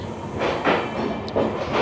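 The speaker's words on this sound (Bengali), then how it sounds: "দেখতে পাচ্ছেন কোচিং ইয়ার্ড থেকে বেরোচ্ছে অমৃত ভারত উদ্বোধনী স্পেশাল ট্রেন" Amrit Bharat Express inaugural special train pulling out of a coaching yard near Bhagalpur Junction, with a close, rhythmic clatter of wheels over rail joints and a steady rolling rumble underneath.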